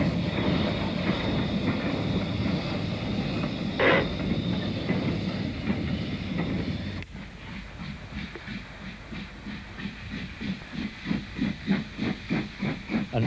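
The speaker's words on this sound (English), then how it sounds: "There's a speed restriction on this bridge, so trains approach it with care." A steam locomotive eases across a bridge under a speed restriction, first a steady loud hiss of steam, then a sudden change to rhythmic chuffing and clickety-clack of wheels growing more distinct.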